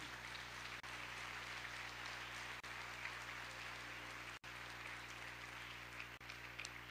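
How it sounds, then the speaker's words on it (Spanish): A church congregation applauds visitors attending for the first time, a dense, continuous wash of clapping that holds evenly throughout, soft and somewhat distant, with no speech over it. "¿Les podemos dar un aplauso?"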